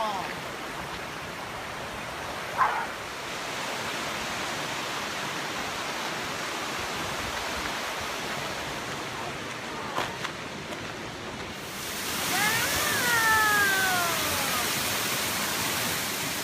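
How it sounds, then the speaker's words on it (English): Steady rushing roar of a waterfall on a hike, broad and continuous throughout, with a brief bird call rising over it near the end. "They're waterfalls."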